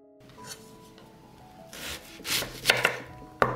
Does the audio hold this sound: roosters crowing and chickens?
no